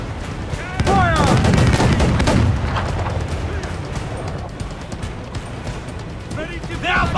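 In Assassin's Creed 4 Black Flag, ship cannons boom in a heavy, loud volley amid shouting crew voices, then fade to rumbling battle noise, with another blast near the end.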